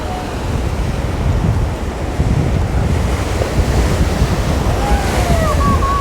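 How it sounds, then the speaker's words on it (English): Choppy sea waves surge and crash against a sea wall along Aberdeen's promenade, a loud continuous roar of surf mixed with wind buffeting the microphone. "It's quite choppy today, isn't it, the sea?"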